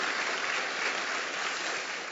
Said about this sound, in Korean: 박수도 감사하겠습니다